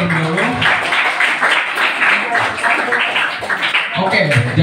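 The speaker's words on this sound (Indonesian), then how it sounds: "Berikan tepuk tangan untuk Kevin terlebih dahulu." Students in a school applaud a classmate, a busy crowd clapping that runs steadily throughout, with voices and chatter mixed in under and around the claps.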